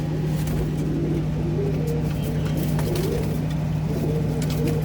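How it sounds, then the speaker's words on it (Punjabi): Domestic pigeons coo in soft, low, repeated phrases close by over a steady background hum, with no talk. "ਬਹੁਤ ਚੰਗੀ ਆ ਕਬੂਤਰੀ ਹੈ"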